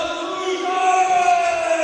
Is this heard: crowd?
yes